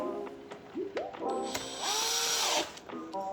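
A powered driver spins screws into an Xbox One S during assembly, giving several short rising whirs and one longer sustained whine, close and fairly loud, with no one speaking.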